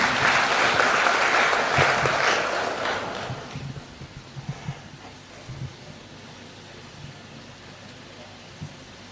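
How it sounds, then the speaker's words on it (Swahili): An audience at State House in Kenya claps for the president: a dense burst of applause for about three seconds that fades to a few scattered claps and quiet room noise. "Tumpigie Rais makofi kwa hiyo kazi."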